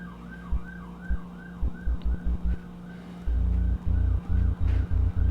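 A deep, sustained 808 synth bass drone with a gliding, wavering tone, punctuated by repeated thumping low hits that grow steadier toward the end.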